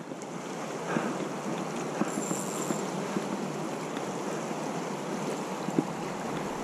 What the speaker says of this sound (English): the water's really rushing